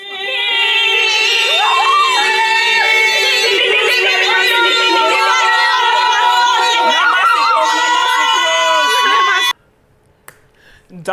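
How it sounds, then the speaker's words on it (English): Loud, continuous crowd cheering and ululating shouts at an engagement celebration in Sierra Leone, many voices overlapping at high intensity for about nine seconds before cutting off abruptly into near quiet. "Don't mind all the loud cheering. That's kind of like how my culture celebrates."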